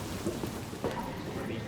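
Rain falling in the Cyberpunk 2077 video game, a soft, steady wash of drops that runs without a break and sits faintly in the background.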